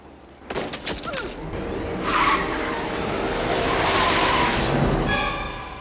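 A car restarts and skids in a film scene: a burst of sharp mechanical clatter and revving, then a long, loud tire squeal sweeping across the pavement before fading out, with no one talking.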